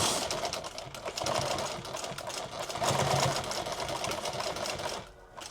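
Sewing machine running steadily as it stitches a folded-under fabric edge for a subgun micro rig, a continuous close mechanical whir with rapid stitching texture throughout, easing off near the end.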